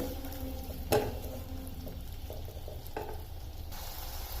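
Chillies stirred and fried in oil in a pan for a spicy dahi mirchi fry, giving a soft, steady sizzle with one sharp scrape and a few gentle stirring knocks, fairly quiet and without talking.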